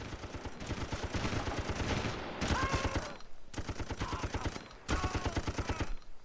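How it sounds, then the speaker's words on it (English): Video game gunfire as enemies shoot through a wall: rapid automatic bursts in several volleys with brief pauses, moderately loud, with some faint game effects between them. "I think they're just shooting me through the wall."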